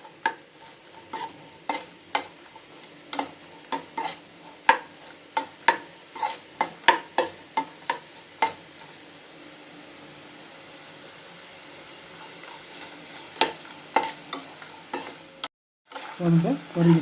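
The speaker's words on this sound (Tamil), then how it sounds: "இந்த வத்தலை போட்டுக்கோங்க. லேசாக வறுத்து எடுத்துக்கோங்க" Dried prawns and sun-dried methuku vathal fry lightly in oil in a pan, with a steady sizzle under repeated sharp scraping stirs of a spatula, then a brief clatter near the end.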